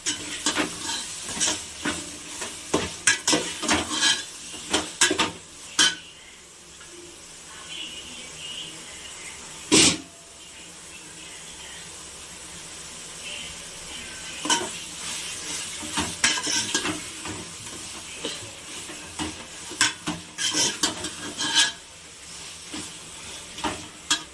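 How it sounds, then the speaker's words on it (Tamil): Tomatoes being stirred and sautéed in a pot for biryani, a low sizzle under frequent scraping and clanking of a spoon against metal, in uneven bursts over a quiet stretch, no talk. "அதுக்கப்புறம் கொஞ்சம் தக்காளி போட்டுட்டு வதக்கிக்கலாம்."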